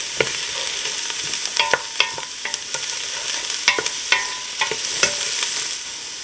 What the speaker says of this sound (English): Now I'm only going to cook the garlic for a minute